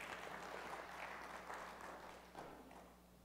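Church congregation applauding during a service announcement, a soft, steady wash of clapping heard at a distance that slowly fades toward the end.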